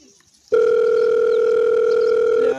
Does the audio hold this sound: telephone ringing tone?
yes